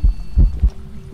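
In the video game Phasmophobia, three deep, muffled heartbeat thumps in a quick uneven rhythm, followed by a low steady hum with no voices.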